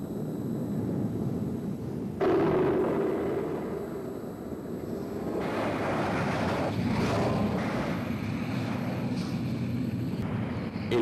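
A depiction of an asteroid impact fireball explosion: a deep, sustained roaring rumble that swells sharply after the first couple of seconds and keeps rolling with surges and crackling bursts, loud and alone throughout.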